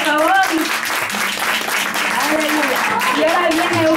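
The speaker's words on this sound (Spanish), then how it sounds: "Un aplauso, por favor." A church congregation claps after a sermon, a moderate, fairly steady patter heard beneath a voice talking over it throughout.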